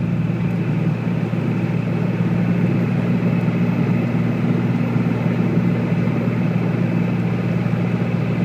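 A 2001 Dodge Ram 2500 Cummins diesel with a 6-speed, climbing a steep hill, a loud steady low engine drone with turbo whine layered on top, continuous from inside the cab with no talking.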